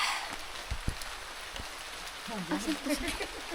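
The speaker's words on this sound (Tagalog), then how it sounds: "It's raining actually. It's raining here." Rain patters steadily on surfaces inside Mabinay caves in Negros Oriental, with a few sharp drips close by and a voice talking softly underneath toward the end.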